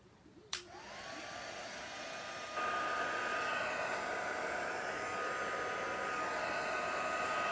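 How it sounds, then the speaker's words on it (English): A heat gun blows hot air to dry alcohol ink on cards, switching on with a click into a steady, loud whooshing roar that steps up slightly in strength partway and runs on alone. "what I particularly love about using a heat gun over the handheld blower or the straw is that it dries these lines in here"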